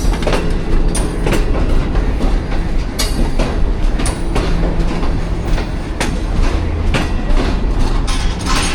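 Passenger coaches of the Karachi Express, including an AC sleeper car, roll past up close with a loud, steady rumble and repeated clickety-clack of wheels over rail joints, with no talking.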